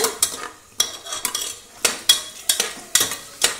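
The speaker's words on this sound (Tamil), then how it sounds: "இந்த வெங்காயம் பூண்டு தக்காளி இது எல்லாத்தையும் சேர்த்து நல்லா வதக்கிக்கோங்க" Onion, garlic, tomato and green chilli sautéing in a pan for a Tamil horse gram gravy: a spoon scrapes and stirs about every half second, with a soft sizzle underneath, close and steady, no talking.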